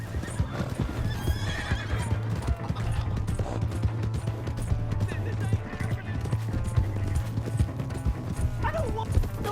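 Horse hooves clip-clopping at a steady gallop in the video game Red Dead Redemption 2, a continuous rhythmic pounding close by, with a horse's whinny and shouted voices over the game's music.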